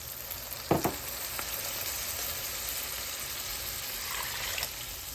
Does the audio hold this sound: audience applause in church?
no